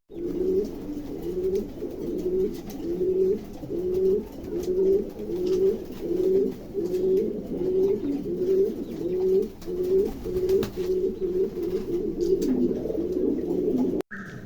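Several pigeons offered for sale coo in repeated, rhythmic low phrases, close and clear, overlapping continuously throughout with no talk.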